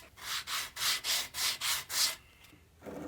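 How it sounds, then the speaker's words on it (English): Steady back-and-forth hand sanding of red oak edges, about seven even strokes in a row, close and fairly loud, then a brief pause and quieter rubbing. "just using the weight of the wood very lightly sand all the edges"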